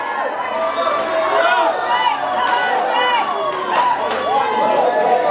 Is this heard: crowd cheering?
yes